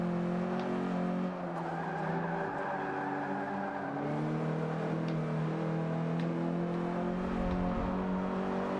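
In Forza Motorsport 5, a race car drifts through a corner with its engine roaring and its tires squealing in a long, steady skid, then revs back up at the end.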